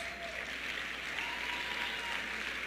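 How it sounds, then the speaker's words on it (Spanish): Congregation in a church service applauding the word of God, a steady, dense wash of many hands clapping together, fairly distant and even throughout with no voices on top. "denle un aplauso a la palabra de Dios"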